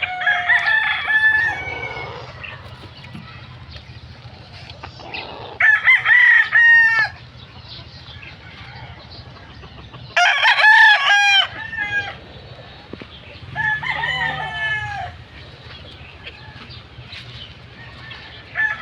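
Roosters crow repeatedly and chickens cluck at a chicken farm in Muntinlupa with young chicks about, the calls rising in loud bursts over a steady low background hum.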